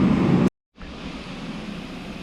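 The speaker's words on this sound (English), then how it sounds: "I actually picked up a heater the other day because it's starting to get cold." A Remington propane forced-air heater rated 95,000 to 125,000 BTU, fed from a 20-pound tank, runs with a steady loud roaring rush. The roar cuts out briefly, then resumes at a lower level.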